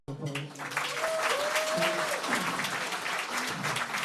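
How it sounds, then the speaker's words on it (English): An audience applauds children who have just sung at a community event, with sustained, even clapping throughout and a brief gliding voice-like tone riding over it near the start. "please give them another round of applause"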